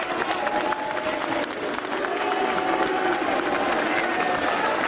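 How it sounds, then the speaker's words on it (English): Arena crowd at a professional heavyweight boxing match gives steady, dense applause mixed with boos and crowd noise, a continuous roar without breaks. "he's getting applause and he's getting some boos as well"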